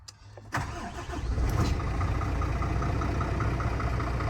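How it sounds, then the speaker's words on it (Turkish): A Volvo or Scania truck engine cranks briefly and catches, then settles into a steady, rumbling idle close by. "Marş yapalım mı?"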